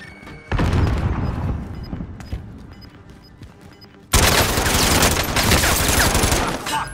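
Grenade blast and heavy gunfire in Call of Duty: Modern Warfare, a loud boom half a second in followed by scattered shots, then a dense, sustained burst of rapid automatic fire and explosions filling the last three seconds.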